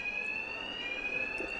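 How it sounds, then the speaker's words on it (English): A bank alarm rings in Batman Arkham Knight, a loud, continuous high-pitched electronic tone held steadily without a break. "My attacks will be covered by the noise of the alarm."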